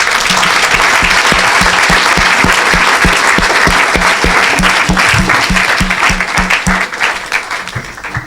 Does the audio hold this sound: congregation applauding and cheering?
yes